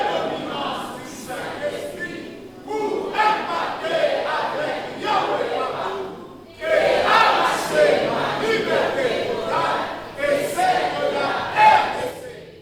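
A church congregation cheering and acclaiming together, a loud sustained wall of many voices that swells in waves, briefly dips, then surges again.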